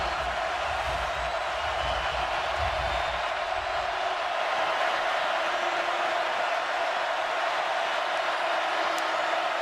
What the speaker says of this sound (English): And the crowd gets more excited.